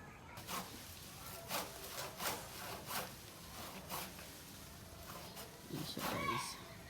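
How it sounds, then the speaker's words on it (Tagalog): A hand saw cuts through the trunk of a tea plant in a garden, giving a series of quiet rasping strokes in an uneven rhythm at a moderate distance, with people talking faintly between strokes. "So, lagariin yan para matanggal yan."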